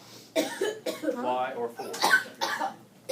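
A person coughs a few times in a classroom during a factoring lesson, the coughs close and loud, mixed in with a voice speaking.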